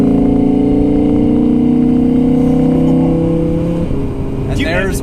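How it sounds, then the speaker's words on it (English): A 2017 Audi R8's naturally aspirated V10 revs hard from inside the cabin with the rear window down, a loud rising engine note that holds, then drops near the end as the car shifts. "there's why you have a naturally aspirated V10"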